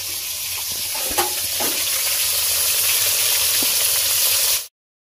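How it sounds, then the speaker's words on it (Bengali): Rohu fish pieces fry in hot oil with a loud, steady sizzle and occasional pops and clinks, set in village home cooking, with no talking, then cutting off abruptly. "তো এবার চলো দেখতে থাকো মাছটাকে ভেজে নিই"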